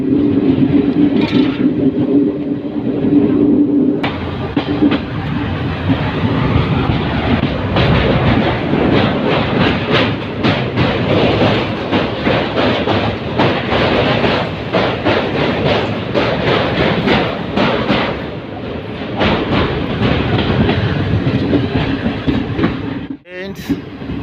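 A train runs on rails at night near Goalpara station in Assam, a loud, steady rumble with rhythmic clickety-clack filling the whole stretch and a sharp knock near the end.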